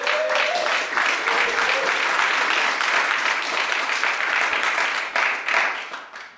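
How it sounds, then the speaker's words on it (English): Sustained applause from a keynote audience of men for an event organizer, dense clapping holding steady and loud before tapering off at the end. "Can we give Jimmy a round of applause there?"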